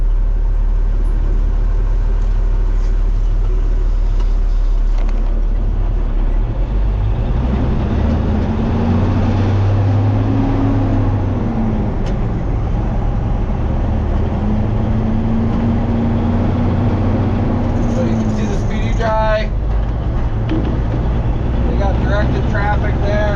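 Road traffic rolling past a gas station, with a steady low engine rumble and vehicles droning by one after another, loud and close, with a whine rising and falling midway.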